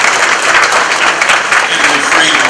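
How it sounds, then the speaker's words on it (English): An audience at a forum for city attorney candidates breaks into sustained, dense applause, a steady wash of clapping from many hands throughout. "Let's give them a round of applause just to start."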